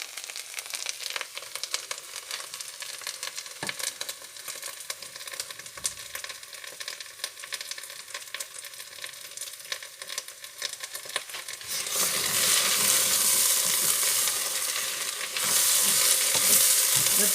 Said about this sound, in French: Voilà, c'est le bruit que ça doit faire. Ça veut dire que c'est en train de rissoler.